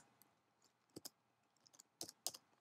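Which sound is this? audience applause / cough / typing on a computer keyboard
typing on a computer keyboard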